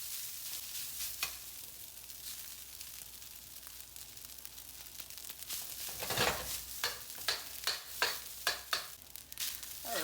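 Leftover rice stir-fried in a pan for fried rice: a quiet, even sizzle that turns into rhythmic scraping and tossing strokes in the second half, close and without talk.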